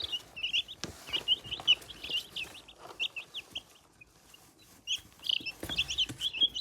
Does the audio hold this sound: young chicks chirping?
yes